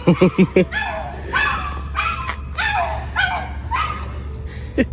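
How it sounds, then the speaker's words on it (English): A dog barks repeatedly in a quick, uneven series, fairly close, over a constant high insect hum. "He barks like that every time someone talks."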